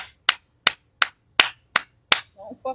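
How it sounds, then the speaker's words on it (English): A single person clapping in slow, evenly spaced claps, about seven sharp, close smacks in an otherwise quiet room, followed by a brief murmur of voice. "Give yourself a motherfucking round of a goddamn applause."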